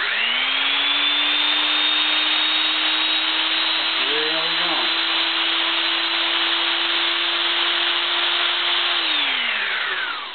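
Brushed drive motor running at 110 volts, spinning up to a steady high-pitched whine that holds for several seconds before winding down at the end.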